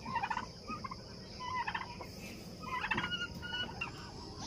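A turkey gobbles in several quick rattling bursts, fairly faint against a steady background hiss, with short pauses between calls.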